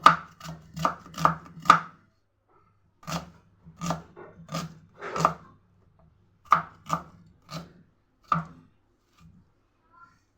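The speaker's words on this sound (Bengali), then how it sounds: "পেঁয়াজটাকেও লম্বা লম্বা করে কেটে নেব" A knife chops a whole onion lengthwise into long slices on a board, giving a run of quick, crisp taps, then a pause and further bursts of close, distinct cuts with no talking.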